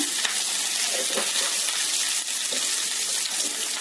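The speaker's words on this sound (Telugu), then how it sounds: "ఈ ముక్కలు వేసిన తర్వాత కొంచెం సేపు వేయించి" Vegetable pieces frying in a pan for a Telugu kootu, producing a dense, steady sizzle and crackle with light stirring taps, close and even, with no one speaking.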